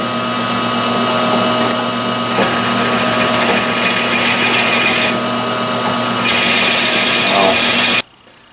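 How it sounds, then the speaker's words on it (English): A power drill whirs steadily and close, its motor pitch shifting slightly as it bores a countersink hole in a wooden plane handle, then stops abruptly near the end. "I can drill that countersink hole"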